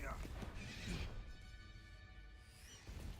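A hippogriff creature in the Hogwarts Legacy video game gives a horse-like whinnying call, faint and blended into dense game music and ambience, with a rising cry near the end.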